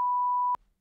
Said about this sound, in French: On va espérer que le bip s'est bien mis.